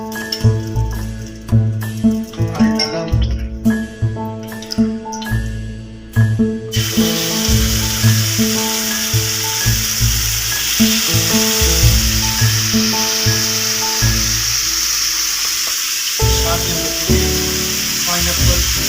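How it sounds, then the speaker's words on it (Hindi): Huli Huli chicken skewers and pineapple on a grill give a steady, loud sizzle that takes over after a stretch of rhythmic music, with light clinks of tongs or metal on top. "ग्रिल करेंगे अभी हम लोग।"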